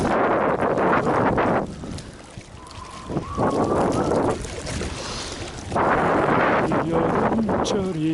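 Heavy wind buffets the microphone at a reservoir while fly fishing, a loud continuous rumbling roar that eases briefly in the middle and then returns, with a voice speaking faintly underneath.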